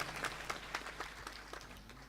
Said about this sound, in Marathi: एकदा टाळ्या वाजवा त्यांच्या नावाने